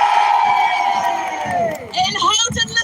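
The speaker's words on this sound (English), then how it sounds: "So let's have a cheer" A large crowd at a women's rights march cheers and whoops loudly, a sustained roar of voices rising and falling with shouts over it.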